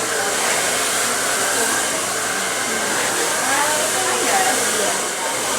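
A blow dryer roars steadily at close range, a constant airy whoosh with slight shifts in pitch as it moves.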